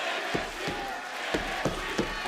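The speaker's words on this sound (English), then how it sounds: "And listen to this crowd" Wrestling arena crowd at a WWE NXT event roars in a steady, dense wash of cheering, with sharp thuds landing periodically through the noise.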